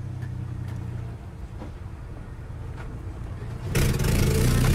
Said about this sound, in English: Let's try firing this thing up.